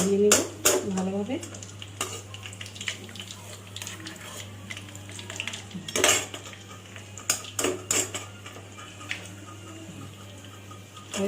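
Fried onion beresta for mutton biryani lifted from hot oil with a metal utensil, clinking against the pan and draining, with several sharp scrapes and taps over a soft continuous sizzle.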